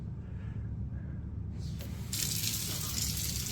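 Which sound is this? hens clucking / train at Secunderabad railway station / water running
water running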